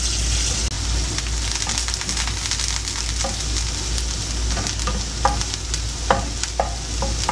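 Pinto beans sautéing in a pan, a steady close sizzle and hiss with occasional soft stirring scrapes and small clicks of a utensil.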